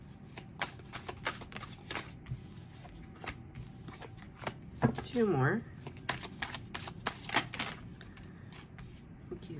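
Tarot cards riffle-shuffled at close range in a short rustling burst, preceded and followed by light card handling and taps, with a person speaking briefly.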